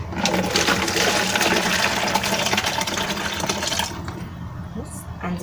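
Water pours steadily into a jar of pickled onions, a gurgling, splashing stream that tapers off near the end; faint background noise but no clear talk.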